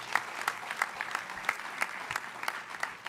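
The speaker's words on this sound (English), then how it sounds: "Let's give them a round of applause." An audience at a nutrition policy event applauds the speakers, with a steady, fairly distant round of clapping and regular accented claps standing out, fainter in overall level.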